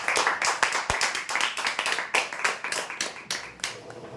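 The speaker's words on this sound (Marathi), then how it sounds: "जोरदार टाळ्या होण्यासाठी" An audience claps for prize winners at a lucky draw, a brisk burst of uneven hand claps close by, with faint voices mixed in.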